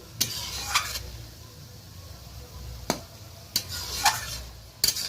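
Shrimp with potato and eggplant stir-fry without water in a pan, a low steady sizzle punctuated by about six sharp scraping strokes of a spatula against the pan, with no voices.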